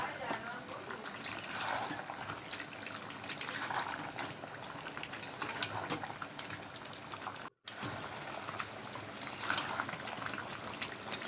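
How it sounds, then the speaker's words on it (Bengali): Chicken meat sizzles in hot oil in a pan while being stir-fried for chicken kosha, a steady low crackling hiss that continues with a brief drop-out midway. "ভালো করে মাংসটা কষাচ্ছি, কালারটাও দারুণ এসছে।"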